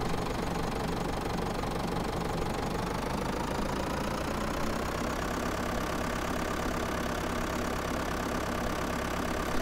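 A tractor engine in the farming video game Farming Simulator 2011 runs steadily at a knocking idle for about ten seconds, a constant mechanical drone with no voices over it.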